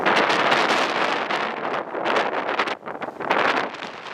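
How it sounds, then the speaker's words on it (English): Cold wind gusting across frozen Dream Lake, loud roaring gusts buffeting the microphone in surges that dip briefly and return, with no voices. "A huge gust of wind hit us right in the face as soon as we stepped onto the lake"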